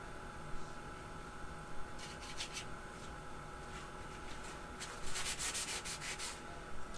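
Paint is rubbed into an abstract painting, a faint, soft scrubbing with short bursts of rubbing strokes, including a louder cluster of strokes near the end.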